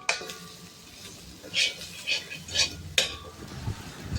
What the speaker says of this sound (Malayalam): ഇത് വഴറ്റിയെടുക്കണം. നല്ലോണം വഴണ്ട് വരണം.